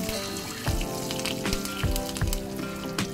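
Dry red chillies, black mustard seeds and curry leaves crackle in hot oil, a steady dense sizzle broken by sharp low pops and spatters, close and alone.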